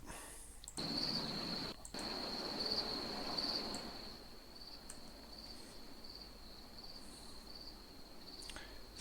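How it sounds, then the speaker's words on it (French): Cicadas chirping in a calm outdoor nature recording, a steady high-pitched buzzing drone that runs throughout, with a faint stream of water underneath and no voices. "C'est des cigales"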